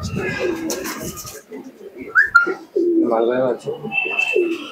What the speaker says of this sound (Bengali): মালবাই থেকে শুরু করে সব ধরনের কবুতর আছে।